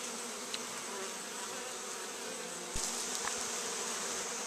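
A swarm of honey bees buzzes steadily around a swarm trap and five-frame nuke outdoors, a dense continuous drone close by with no talking.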